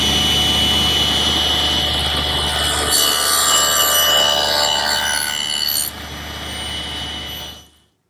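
A saw cuts wooden picture frame molding held on a cutting jig, giving a loud, steady, rasping buzz close by that shifts in tone partway through and then fades out at the end.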